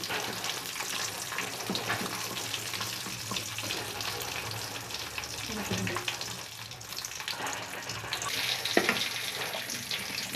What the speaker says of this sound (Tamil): திராட்சையும் முந்திரியும் இப்போ நம்ம தாளிக்கிறோம்.